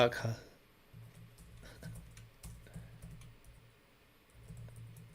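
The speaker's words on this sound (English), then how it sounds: "I just kept typing words until it came out." Typing on a computer keyboard, a faint run of soft key clicks in short bursts over a quiet room, with a brief loud sound at the very start.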